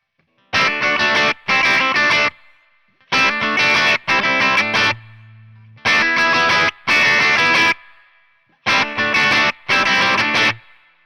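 Clean electric guitar played through a TC Electronic Ampworx Combo Deluxe 65 preamp, set with the mids cut and the bass and treble raised, giving a bright, spanky tone in repeated loud strummed bursts separated by short silences.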